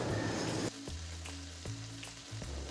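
Raw peanuts dropped into hot oil for a mixed vegetable curry with data greens: a loud burst of sizzling, then a quieter steady frying crackle with light stirring taps.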